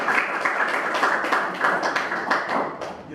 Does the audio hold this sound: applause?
yes